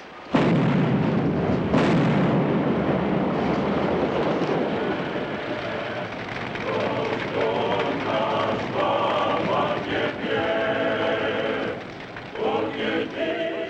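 Heavy guns firing in a film scene, with loud booming blasts and sustained rumbling barrage, continuous and dense, later joined by mechanical clattering.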